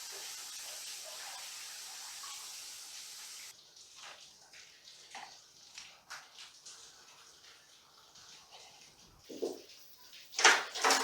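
Water splashes and pours out in short bursts, with a steady hiss of running water early on and louder sloshing near the end.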